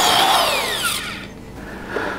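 A power drill whines loudly, driving a screw into a wooden mold box, its pitch sliding down as the screw seats and then a short second burst, with no talking.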